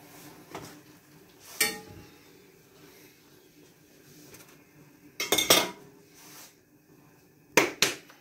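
A metal fork working dough in a bowl for kefir-dough pirozhki, with a few sharp clinks and scrapes of metal against the dish between quieter stretches, close up and without talk.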